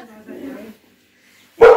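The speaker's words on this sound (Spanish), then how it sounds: "Aquí tenemos al perro vaca." A dog at a Christmas fair gives one sharp, loud bark right after a short stretch of speech and a silent pause.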